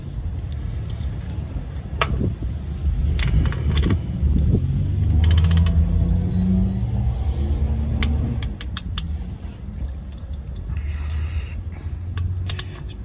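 Bolt being tightened on a Mk5 Golf 2.0 FSI subframe insert mount, with a run of ratchet clicks and metallic creaks, sharp ticks and some rattling from nearby tools.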